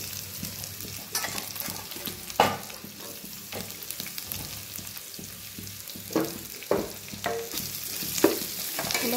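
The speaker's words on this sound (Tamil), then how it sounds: "பெரிய வெங்காயம் அதை எடுத்து நல்லா பரவலாக போட்டு விடுங்க." Sliced onions fry in a pan for egg masala, a steady close sizzle broken by irregular scraping stir strokes and a few clunks of the spatula against the pan.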